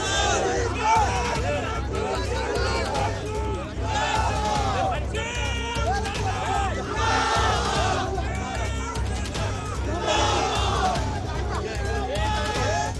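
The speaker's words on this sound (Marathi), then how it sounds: "विजयी उमेदवारांचा कार्यकर्त्यांचा जल्लोष।" Loud crowd of party workers cheering and shouting together outdoors in Maharashtra, celebrating a Nagar Parishad election win with minister Bharat Gogawale; dense continuous babble with whoops and cries over a steady roar.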